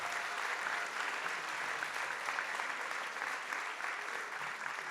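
A school audience at a workshop applauds a teacher, a steady wash of clapping from a crowd, moderately distant and continuous with no talk over it.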